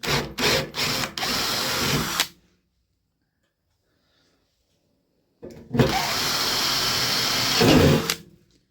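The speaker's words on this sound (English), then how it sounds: "Now I'm going to go right through this with a 3/16." A power drill with a 3/16 bit bores through a car's gas tank during a fuel pump replacement, sounding as two loud, close whirring bursts, the first stuttering in short pulses, separated by silence.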